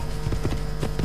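Rapid, steady hoofbeats of a horse clip-clopping in an Assassin's Creed video game, loud and close, with no other sounds over them.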